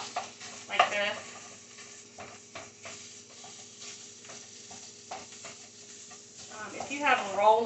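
Sausage patties being crumbled and fried in a pan coated with cooking spray, with a steady sizzle and scraping stir strokes, brief clatter bursts, and a voice talking over the cooking.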